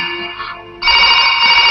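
A telephone ringtone rings loud and close, a bright electronic tone that pauses briefly and then resumes steadily, with no voices over it.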